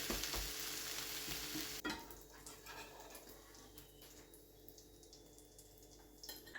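A quick breakfast cooks in a pan, with a steady broadband frying sizzle that is loud at first and settles to a softer, continuous hiss, with small scraping and clinking touches near the end.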